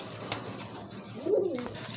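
Large, healthy pigeons at a pigeon seller's collection coo in short, throaty calls, one brief coo early and a clearer rolling coo near the end, close and moderately loud, with no voices.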